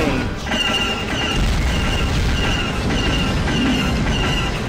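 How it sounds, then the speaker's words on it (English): Heavy, continuous mechanical rumble from a walker in the Star Wars The Clone Wars video game, with repeated sharp clanking hits layered over a dense battle din, loud and unbroken throughout. "you can fire a mortar shot"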